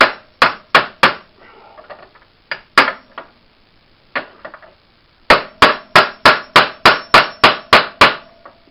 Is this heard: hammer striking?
yes